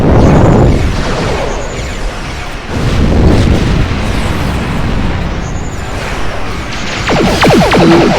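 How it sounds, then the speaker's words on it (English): A plasma torpedo fired in the game Star Trek Online sets off heavy booming blasts that swell and fade in waves, followed by crackling bursts near the end. "Eat plasma torpedo."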